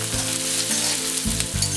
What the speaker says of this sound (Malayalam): ഇത് നന്നായി വഴലുന്നത് വരെ നമ്മൾ ഇളക്കിക്കൊണ്ടിരിക്കുക